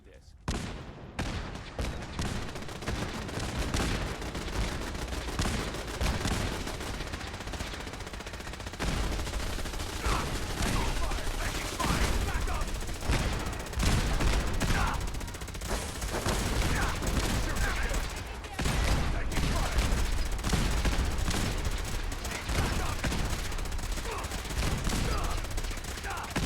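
Gatling laser fire in Fallout 4 survival mode: dense, rapid weapon fire and crackling bursts run almost without a break through a long battle, loud and continuous, with game voices talking in places.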